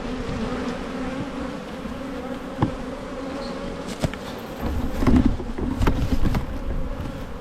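Honey bees swarm around an opened hive during a queen replacement, a dense continuous buzz near and loud, with a few sharp knocks of frames and gear.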